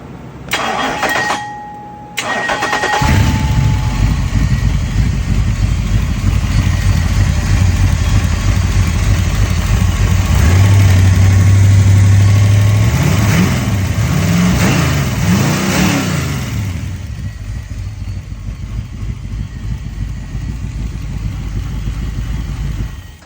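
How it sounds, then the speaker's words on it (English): A 460 Boss 351 Windsor V8 on Terminator X fuel injection with Holley Hyperspark ignition cranks and fires up, settles into a loud, lumpy idle, then rises through several throttle blips before dropping back to a rough idle, close and without talk. "460 Boss 351 Windsor. Love this thing. It's on a Terminator X with a Holley Hyperspark."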